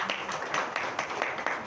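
Brief burst of audience applause in a hall at a Telugu cinema event, a short stretch of rhythmic clapping heard in the room.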